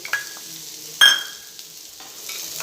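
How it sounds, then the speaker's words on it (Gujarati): Vertically sliced onions drop into hot oil with cumin over a low flame, a sudden burst of sizzling followed by a softer steady hiss and a few light utensil taps. "હવે તરત જ એમાં આપણે કાંદા એડ કરી દઈશું"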